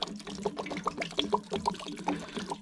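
Water drains from a 6-gallon water heater tank on a Grand Design Reflection 150 Series fifth-wheel RV, a steady close trickle with bubbling gurgles and drips, heard alone without talk.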